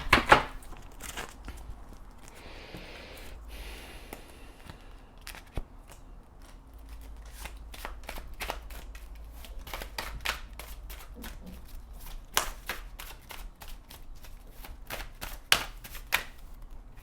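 Tarot cards being shuffled and handled in a quiet room, giving a long run of close, crisp riffles and card taps, sparse at first and then a rapid uneven flurry of slaps and snaps toward the end.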